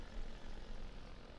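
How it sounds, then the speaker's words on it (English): A propeller airplane engine in Garry's Mod drones steadily and evenly throughout, a continuous low rumbling hum with no talk over it. "I get to fly planes!"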